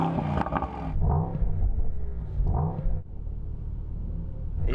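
A Mercedes-AMG GT 63 engine rumbles and revs with deep, loud exhaust bursts, rising sharply twice and then settling into a steady low growl.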